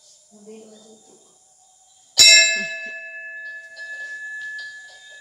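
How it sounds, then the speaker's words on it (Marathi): A single loud strike of a temple bell rings out with a long, clear metallic ring that slowly decays, preceded by faint background sounds. "आधी बेल वाजवतो."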